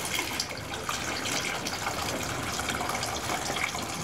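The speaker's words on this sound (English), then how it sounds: "we can just open the stopcock and wait it out." Beer pours steadily from a homebrew fermenter through an open stopcock, a continuous close gushing, splashing flow at even loudness with no talk.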